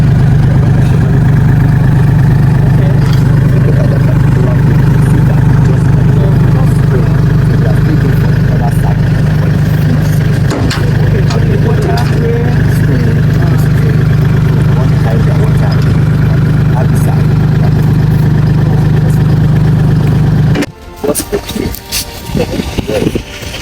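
A heavy tractor engine idles steadily with a low, constant hum for a long stretch on a cassava farm, then cuts off abruptly near the end, leaving scattered clunks.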